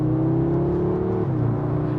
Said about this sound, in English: That gear shift is phenomenal.